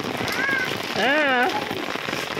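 A sudden heavy downpour in the Konkan hisses steadily at night, and a voice rises in drawn-out, wavering tones over the rain.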